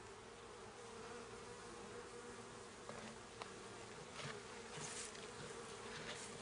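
Field bees buzz steadily around a nuc hive being transferred outdoors, a continuous low droning hum with a few individual bees passing close by.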